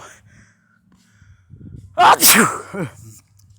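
A single loud sneeze bursts out with a sharp inhale before it and a shorter trailing gasp after, close to the listener in a quiet room.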